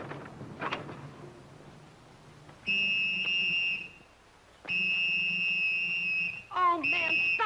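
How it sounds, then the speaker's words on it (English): A shrill, steady whistle blows in long sustained blasts, three separate bursts with pauses between them, loud and close, following some faint background noise at the start. "stop blowing that whistle."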